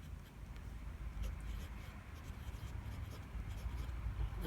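A Visconti Breeze fountain pen with a broad steel nib scratches across Clairefontaine paper in soft, close, continuous strokes, faint and papery with small tapping accents as the nib moves.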